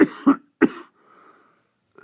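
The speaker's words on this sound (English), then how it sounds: "Apologies for coughing." A person reading a children's book aloud coughs three times in quick succession, close and sharp, followed by a faint throat sound and a short pause of near silence.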